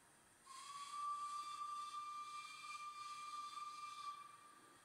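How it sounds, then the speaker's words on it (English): A steady, high steam locomotive whistle in the Roblox game Taleland Railway blows for about four seconds over a soft hiss, clear and fairly distant, then cuts off. "let's blow the whistle. That's a very cool whistle"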